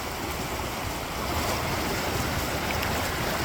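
A waterfall in full flow in the woods near Hawick rushes steadily, a continuous broadband roar with a windy hiss, fairly soft and with no voices over it.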